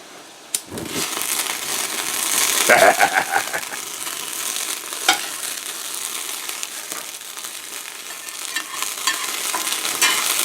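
A utensil stirs and scrapes fried bits across the bottom of a pan during a mac and cheese and chicken cook after a flambé, close clattering scrapes over a steady sizzle.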